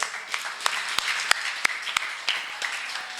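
Participants at a yoga laughter session clap in a thin, scattered way, a handful of sharp separate claps popping out over faint murmuring at a modest level.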